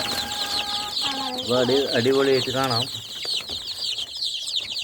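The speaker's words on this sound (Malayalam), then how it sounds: "ഇതാണ് നാടൻ കോഴി കുഞ്ഞുങ്ങളാണ്." Native country chicks cluck and chirp close by in a short burst of calls, with a person talking over the birds.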